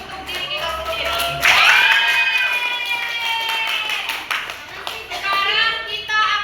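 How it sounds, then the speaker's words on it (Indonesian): A classroom of children clapping for themselves at their teacher's prompt, a dense burst of hand claps with cheering and high children's voices over it, lasting several seconds. "sekarang kita tepuk tangan dulu untuk diri kita sendiri"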